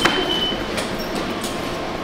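Steady rumble of a metro train running in Japan, a continuous rolling drone with faint rail noise and a brief high whine, no talking.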